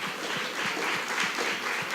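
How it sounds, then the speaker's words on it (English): Audience applause after a presentation at a regional planning summit, a steady wash of many hands clapping, moderately loud and continuous throughout with no one speaking. "Let's give them a round of applause."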